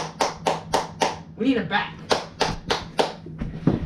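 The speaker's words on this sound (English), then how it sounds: "Brady, stop clapping for him!" A child claps hands in a steady series of about a dozen sharp, close claps at an even rhythm, with someone talking briefly partway through.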